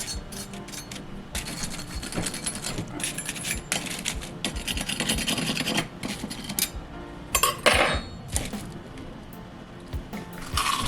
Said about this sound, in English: our beer batter onion rings are done, and listen to the crispiness on these